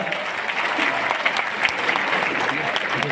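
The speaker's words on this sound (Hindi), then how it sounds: "मैं चाहता हूं एक बार पूरा सदन कविता के सम्मान में जोरदार तालियां बजाएं" Thunderous applause from the full audience at an all-India poetry gathering at a Lucknow convention centre, dense continuous clapping in a large hall throughout.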